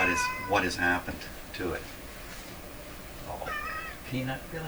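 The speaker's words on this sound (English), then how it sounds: "That's my cat, in case you don't realize it." A pet cat meows several times, close and loud, mixed in between a man's indoor speech.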